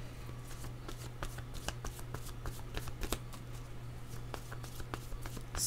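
Tarot cards shuffled by hand at close range, producing a continuous soft riffling and flicking with frequent small card snaps over a low steady hum, no speech.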